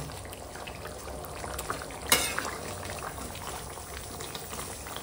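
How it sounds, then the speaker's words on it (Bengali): Dal bubbles quietly in a pot on the stove, a soft, steady simmer with one sharp clink partway through, faint and without voices. "পাশে ডাল সিদ্ধ হচ্ছে"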